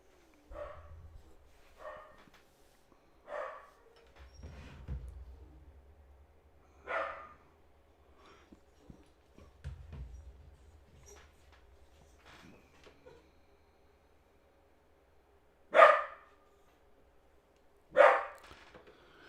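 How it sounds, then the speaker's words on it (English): A dog barks repeatedly indoors, sharp separate barks and yips at irregular intervals with quiet gaps between, a couple of louder barks near the end. "Sorry about my dog this morning. He is going crazy,"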